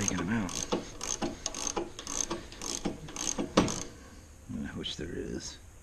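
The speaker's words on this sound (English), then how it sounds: "I just want to put a side load on these bolts while I'm taking them out." A ratchet clicks in quick repeated strokes while bolts are backed out of motorcycle rear shocks, close and fairly quiet, with a pause and then a few slower mechanical clicks near the end.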